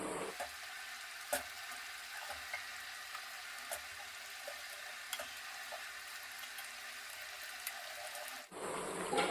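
Bottle gourd vada deep frying in oil over a medium flame, a steady soft bubbling sizzle with scattered pops and crackles, faint and continuous, ending in a brief louder stir.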